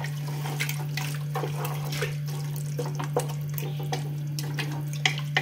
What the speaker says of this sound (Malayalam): ആ വെള്ളവും കൂടെ അങ്ങോട്ട് ഒഴിച്ചു കൊടുത്തു കേട്ടോ.